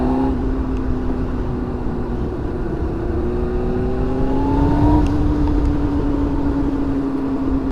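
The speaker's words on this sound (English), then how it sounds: "so far the bike is running really good" A Yamaha R1 motorcycle engine hums steadily up close, a continuous droning tone with a slight rise in pitch midway, loud over rushing background noise.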